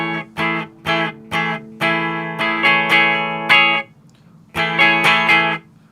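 Fender Cabronita Telecaster electric guitar played dry with reverb and delay switched off: bright, clean chords strummed in short rhythmic bursts, close and loud, with a brief pause before a final flurry of strums.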